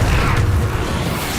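A fiery Confringo spell blast in Hogwarts Legacy booms deep and heavy, one loud explosion with a rumbling tail that fades over about a second.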